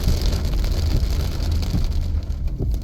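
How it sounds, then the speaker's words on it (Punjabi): Heavy rain that has just begun pours down outdoors near trees where cattle are bathing, a dense, steady, loud hiss with a low rumble that continues unbroken throughout. "ਬਹੁਤ ਤੇਜ਼ੀ ਨਾਲ ਮੀਂਹ ਦਾ ਸਟਾਰਟ ਹੋਈ ਹੈ"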